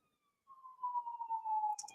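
A lone siren tone sweeps in, then holds a steady, slightly warbling pitch, fairly faint and distant, with a brief burst of other noise at the end.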